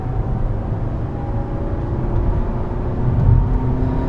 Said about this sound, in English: It accelerates smoothly because it's not turbocharged.